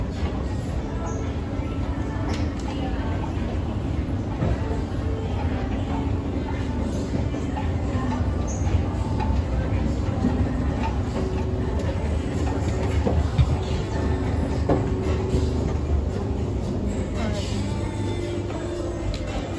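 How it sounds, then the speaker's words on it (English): An Otis escalator motor at a Zara store on Oxford Street, London, gives a steady low mechanical hum and rumble, running continuously under faint background bustle and occasional voices. "Epic motor on those escalators."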